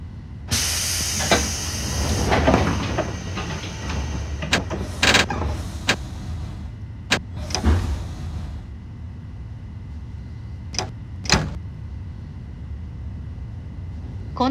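Simulated 205 series train doors on the Keiyo Line closing at platform 2, with a loud pneumatic hiss and rush of air at first, then several sharp clunks and thumps spaced over the following seconds.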